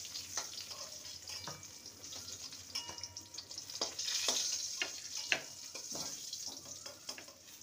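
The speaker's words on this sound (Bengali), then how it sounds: "পটলগুলোকে উল্টে পাল্টে লাল করে ভেজে নেব।" Pointed gourd (parwal) frying in hot oil in a pan, a faint steady sizzle with scattered crackles and stirring scrapes, close by and alone with no talking.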